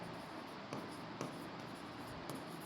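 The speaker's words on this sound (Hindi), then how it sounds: "लिखते हैं।" Marker or chalk writes on a board during a maths lesson, a faint scratchy scraping with a few soft taps spaced through the stroke, quiet and without talk over it.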